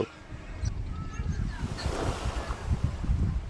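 Sea waves wash onto a quiet beach on Mousuni Island, a steady low surf rumble with wind buffeting the microphone, moderately loud and continuous with no talk.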